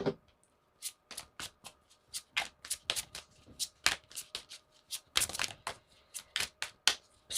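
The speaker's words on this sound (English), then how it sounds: "So I'm going to just shuffle some of these cards." Tarot cards shuffled by hand close up, a rapid series of crisp riffling snaps and slaps in irregular bursts with brief pauses, no talking.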